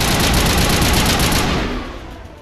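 Gunfire from the video game Mass Effect rattles off in a loud, rapid burst like automatic weapon fire, then trails away into a fading tail.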